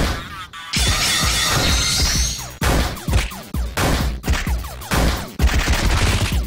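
Gunfire and crashing impacts in the video game Lisa: The Painful come in loud repeated bursts with short gaps between volleys, and no talking.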